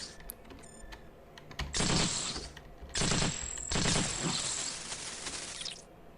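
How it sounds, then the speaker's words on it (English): Assault rifle fire in the Cogmind game, sounding as two loud bursts of rapid electronic gunfire, the second longer and fading out, with faint keyboard clicks before the shooting. "just shoot our assault rifle at this guy just to scare him away"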